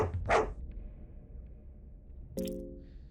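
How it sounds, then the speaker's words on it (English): A harsh bark from a jagged jaw monster in the game Fear and Hunger bursts out at the start, then a second sharp cry later, over a low rumbling game ambience. "The jagged jaw is barking."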